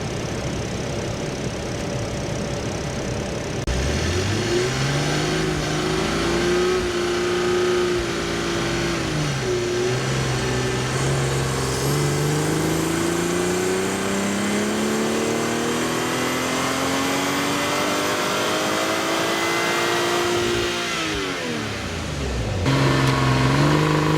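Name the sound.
sports car engine revving on dyno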